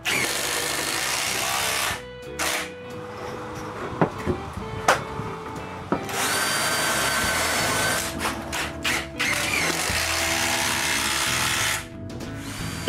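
A power drill bores a hole and then drives a large screw while a greenhouse rack is built from wood, with loud, close whirring in long bursts broken by short pauses.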